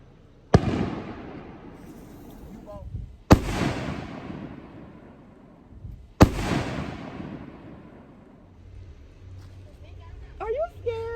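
New Year fireworks go off in three sharp, loud booms, each fading into a long crackling tail. People talk and exclaim between the blasts.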